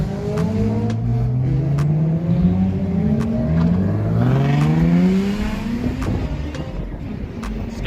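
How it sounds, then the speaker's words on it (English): Several cars revving their engines at a car meet, with overlapping throttle blips and rising, falling engine notes that carry on loudly, some near and some further off. "Everyone's revving and being loud."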